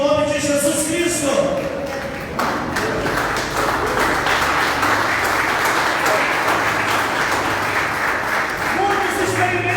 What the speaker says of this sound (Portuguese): Fique de pé aplaudindo o nome de Jesus Cristo.